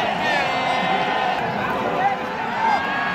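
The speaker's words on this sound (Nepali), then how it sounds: "मोन्टीको लागि यो हुटिङ मोन्टी पुगेछन् फ्ल्याग स्ट्यान्ड नजिक र यो हुटिङ हेर्नुहोस्" Spectators at the Nepal versus UAE ACC Premier Cup cricket final keep up a steady, loud roar of hooting aimed at coach Monty Desai near the flag stand. Shrill whistles and calls cut through the crowd noise.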